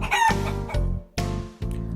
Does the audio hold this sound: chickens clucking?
yes